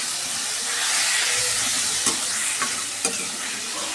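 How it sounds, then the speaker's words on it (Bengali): Mixed vegetables sauté in a pan with ginger-cumin paste and green chili paste for a neem-leaf vegetable curry, giving a steady loud sizzle and hiss with occasional scraping clicks of a stirring spoon. "এবার জাস্ট এটা আরও 5 মিনিট মশলার সাথে সবজিগুলো একটু কষিয়ে নেব।"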